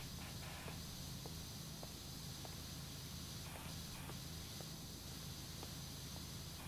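A pressure washer in Powerwash Simulator sprays a steady, continuous hiss that runs throughout, with faint intermittent ticks over the spray noise.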